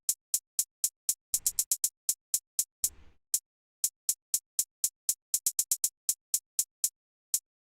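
A closed 808 hi-hat one-shot run through an Ableton arpeggiator ticks out a crisp, bright rhythmic pattern of short clicks in an uneven groove. It is quiet and dry, and two brief noisy bursts appear in the pattern.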